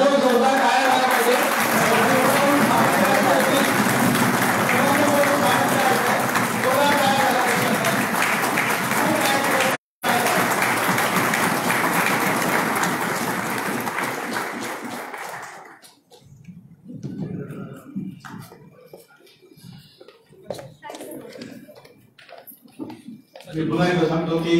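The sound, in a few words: audience applause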